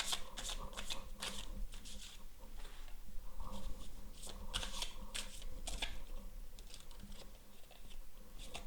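Tarot cards being shuffled by hand, a run of crisp riffling and flicking bursts repeating across the stretch, close and steady, with no talking.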